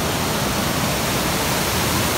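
A steep mountain waterfall rushes with a dense, steady broadband roar, close and unbroken, with no other sounds on top.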